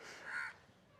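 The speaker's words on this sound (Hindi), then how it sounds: "कौवा बोल रहा है" A crow caws once from a perch above a gate at Sabalgarh Fort, a single harsh, fairly clear call lasting about half a second, followed by quiet outdoor background.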